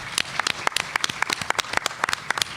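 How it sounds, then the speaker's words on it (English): An audience at a prison reentry conference panel claps in a sparse round of applause, with distinct hand claps standing out sharply and fairly close against a softer background of clapping. "Dave, big round of applause for David, please."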